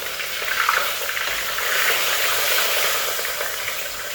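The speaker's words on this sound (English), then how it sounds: "I'm gonna fry it until the onions are brown." Chopped onions frying in oil in a pot for Ghana jollof, a steady close crackling sizzle with soft stirring scrapes throughout, no talking.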